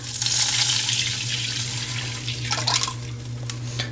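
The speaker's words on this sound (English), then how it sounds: "In the same pan, I'm going to pour our tamarind extract." Tamarind extract is poured into a pan, making a steady watery splashing and hiss that swells at the start and tapers off, close and alone.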